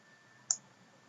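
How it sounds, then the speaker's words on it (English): Two soft mouse clicks, the first crisp and distinct, the second fainter a moment later, in a quiet room. "I use the control key with the mouse click in order to select"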